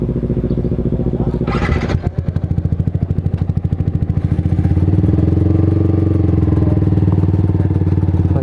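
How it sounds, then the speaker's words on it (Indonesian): A motorcycle engine runs steadily and loud throughout, with a brief clatter and a throttle change near the start before settling into a strong, even drone. "kita pakai motor Asan Leader ya guys"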